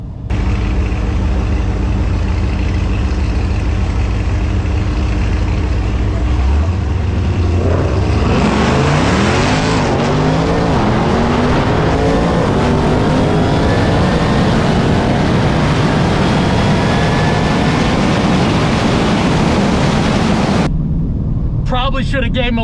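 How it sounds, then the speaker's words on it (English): A drag race against a Dodge Challenger Hellcat Redeye, the loud engine roar rising sharply partway through as the cars launch, and climbing through repeated gear changes until it cuts off near the end. "we're about to race this Hellcat Redeye Challenger"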